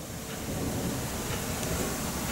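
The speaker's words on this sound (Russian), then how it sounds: "Ветром. Дождем в стену." Wind-driven rain beats against a wall during a June thunderstorm in a village, a steady, dense hiss that fills the whole stretch at moderate loudness with no voices.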